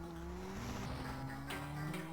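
Arcade racing game Rave Racer: a continuous, loud synthesized race-car engine drone with steady pitch shifts and bursts of tire squeal near the end, playing without speech.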